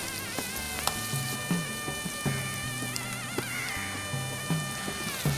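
Onion paste frying in a pan over medium heat, a steady close sizzle broken by intermittent soft bubbling pops and spatters at an uneven rhythm.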